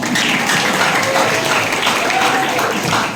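An audience at a school film event in Batam gives a steady, full burst of applause that fills the room for its whole length, with some voices mixed in.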